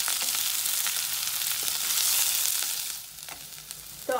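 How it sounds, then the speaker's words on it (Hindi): Onions for chutney frying in a pan, a steady close sizzle with occasional stirring taps, easing slightly toward the end. "हमें इतना ही भूनना है कि इसका कलर एकदम गोल्डन ब्राउन ना हो"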